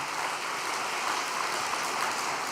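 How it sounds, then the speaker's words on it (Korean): Sustained applause from the audience at an all-night prayer gathering, a dense, even wash of clapping that holds steady with no talk over it. "건강하시라고 다시 한번 격려의 박수를 부탁드리겠습니다."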